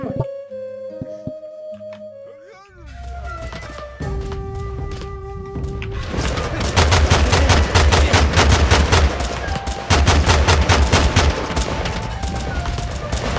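Rapid bursts of gunfire from soldiers in a TABS World War II battle game, loud and dense volleys with music-like tones, building from a quieter opening into continuous overlapping shots.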